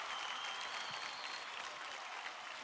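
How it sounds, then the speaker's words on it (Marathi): A television dance-show audience applauding, dense and continuous clapping heard from a distance at low level, with no speech over it. "जोरदार टाळ्या होऊन जाऊ द्या"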